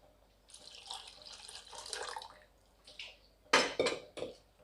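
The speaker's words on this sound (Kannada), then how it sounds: "ಎಷ್ಟು ಬೇಕೋ ಅಷ್ಟು ನೀರನ್ನ ನೋಡಿ ಹಾಕ್ಕೊಳ್ಳಿ" Water pours steadily into a pot of vine spinach sambar for a couple of seconds, followed by a few clanking knocks of metal cookware, fairly close and quiet.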